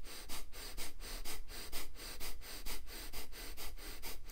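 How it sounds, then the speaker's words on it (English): Rhythmic breathing exercise, about a dozen quick, even breaths pulled in and pushed out through the nose, close and steady with no talking. "Think about pulling the air in and pushing it out."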